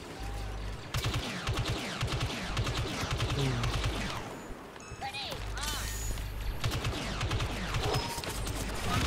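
Minigun fire in Star Wars Battlefront 2, long bursts of rapid rattling shots in rhythmic streams with mechanical whirring, loud and close, broken by a short pause, with a voice talking over it at times.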